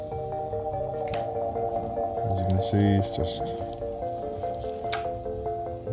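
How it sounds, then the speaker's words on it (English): A steady stream of water runs over a car roof that no longer beads after a cheap wet sealant, giving a continuous splashing, dripping wash throughout while someone talks over it. "Back to the roof with a steady stream of water again."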